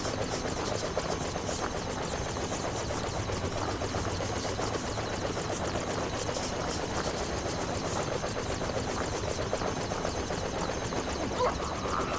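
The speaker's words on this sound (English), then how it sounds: "They're just gonna keep the helicopter here." A helicopter in Splinter Cell: Chaos Theory, a steady droning rotor and engine rumble with a fine rhythmic chop, constant and moderately loud throughout with no speech.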